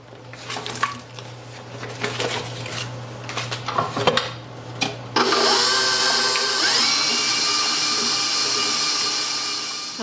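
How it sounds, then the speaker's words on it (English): An electric mixer starts up midway and runs continuously, whipping eggs and butter for a shredded apple pie, a steady whirring drone with a bright rattle against the bowl, preceded by a few clinks of utensils. "I'm going to start off whipping the eggs up."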